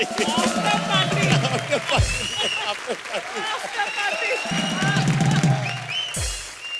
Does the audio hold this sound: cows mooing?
no